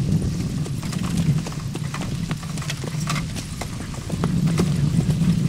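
A pony's hooves trot in a quick, even clip-clop on a hard surface beside a bicycle. The sharp beats are close and continuous over a low hum of road noise.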